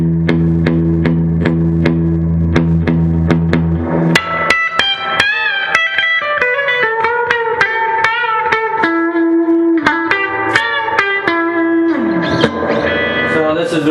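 A Marshall Club and Country guitar amplifier plays electric guitar through its reverb, opening with strummed chords and then picking single notes that ring out with a washy tail, loud and close with no talking.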